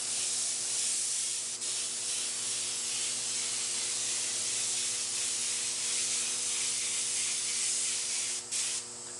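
Aerosol spray paint laying down a light dust coat of black, a close, continuous hiss that runs nearly unbroken with a couple of brief pauses near the end.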